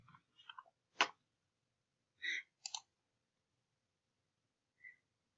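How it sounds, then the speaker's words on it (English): A computer mouse click sounds during the grading and return of student work, a single sharp click standing out among a few other brief faint clicks and ticks in an otherwise quiet room. "I'm going to click return."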